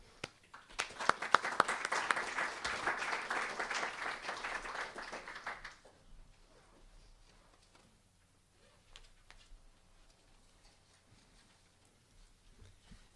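An audience at a talk on North Carolina's role in the global spider web applauds to welcome a speaker, a full burst of many hands clapping for about five seconds before it quickly dies away into quiet room noise.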